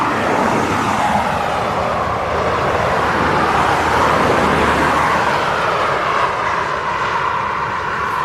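A KLM Boeing 747 taxis at East Midlands Airport, its engines producing a steady, loud broadband roar with a low rumble that holds throughout, no voices present.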